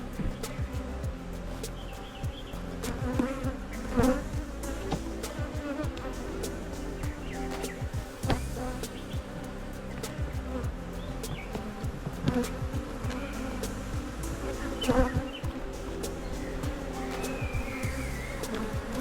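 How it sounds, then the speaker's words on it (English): A decent-sized honeybee swarm on a farm in Jacksonville, North Carolina, hums steadily up close, with individual bees buzzing loudly past throughout and no speech. "I'd say this is a decent sized swarm."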